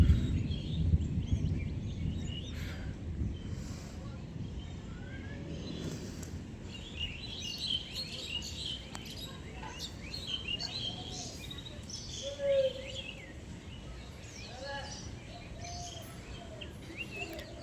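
Birds chirp and call intermittently during heavy rain, small scattered tweets over a soft steady wash of rainfall and low rumble, moderately distant and faint.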